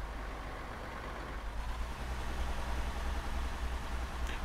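Ridgeback armored vehicle engine from an Arma 3 mod, a steady low diesel rumble and drone holding close and fairly loud throughout, alone with no talk.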